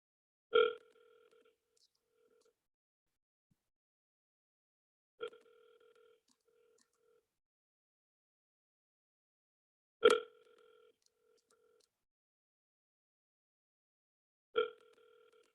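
Ringback tone of an outgoing telephone call, four identical short rings spaced about five seconds apart with near silence between them.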